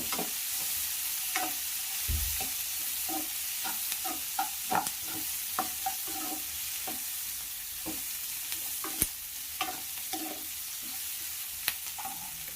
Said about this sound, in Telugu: వెల్లుల్లి రెబ్బలు ఇందులోకి వేసుకోవాలి. ఇలా ఫ్రై చేయాలి.